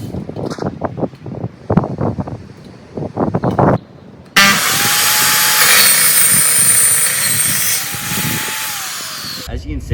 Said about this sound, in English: I'm going to go ahead and scribe where we want to cut the next miter.